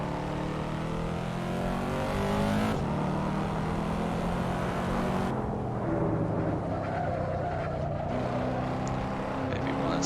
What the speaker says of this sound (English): So much torque in this big V8 motor that just power off the corner regardless.